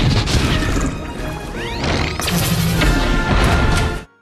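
Torpedoes launching and exploding in an animated Disney submarine battle scene from Atlantis: The Lost Empire, a loud dense crash and rumble with whooshing sweeps and a swelling roar, cutting off abruptly at the end.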